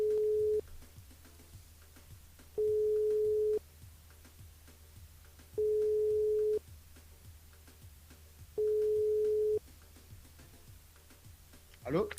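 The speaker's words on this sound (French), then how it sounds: "on appelle Jérôme du côté de Sainte-Suzanne ce matin sur le jeu séjour par SMS au 90" A telephone ringing tone on a live radio show call to a listener: four evenly spaced, steady one-second tones separated by pauses of about two seconds, over a low hum.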